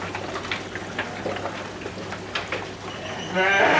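Goats on an organic goat farm bleat faintly among steady background farm noise, with a louder burst of sound near the end.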